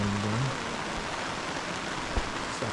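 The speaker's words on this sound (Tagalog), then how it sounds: "lakas ang ulan, no? Narinig yan." Heavy rain pours steadily at a campsite, a dense, continuous hiss with a faint low hum at the very start and an occasional louder drop.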